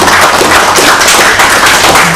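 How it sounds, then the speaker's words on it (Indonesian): Audience at a contract-signing ceremony claps loudly and close, a dense, continuous patter of many hands filling the room without talk. "Mari kita tepuk tangan dulu untuk bapak-bapak yang terpilih."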